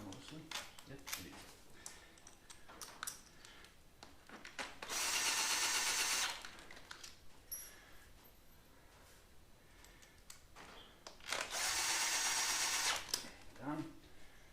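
A power drill runs in two bursts of about a second and a half each while fitting a primary cover on a Harley-Davidson motorcycle; the whine is steady and fairly loud, with quiet tool clatter and shuffling around it.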